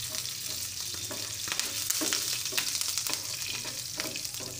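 Dried chilies and curry leaves crackle in hot tempering oil for a pendalam dumpa fry, a continuous close sizzle with scattered pops and light stirring scrapes, without speech.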